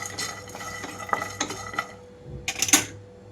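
Cooked ivy gourd pieces are scooped onto a plate, with metal utensils clinking and scraping in a few sharp, separate knocks against the dish; no one speaks.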